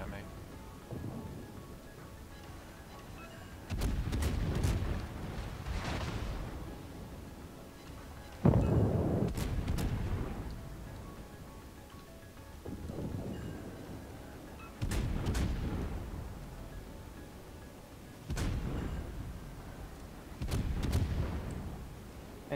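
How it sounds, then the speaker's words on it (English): Heavy naval shells from the battleship Yamato fire and explode in a naval video game, heard as repeated deep booms and rumbling blasts rolling out at intervals beneath a low background. "there's Yamato shells coming at me"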